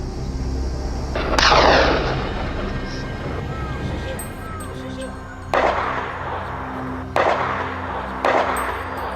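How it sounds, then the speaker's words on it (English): Gunfire during a wild boar hunt in Morocco: a heavy opening shot followed by three sharp, spaced reports that echo over a constant noisy outdoor background. "The sound of gunfire echoed relentlessly"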